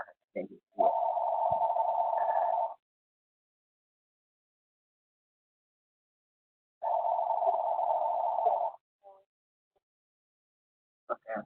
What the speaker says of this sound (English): forgive me for my phone ringing, my house phone